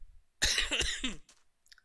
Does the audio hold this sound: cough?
yes